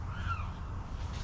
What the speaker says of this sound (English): there's that bird. It's so loud